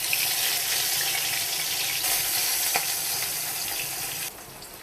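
Eggplant and potato pieces fry in oil, giving a steady, close, dense sizzle that holds evenly throughout and dips slightly near the end.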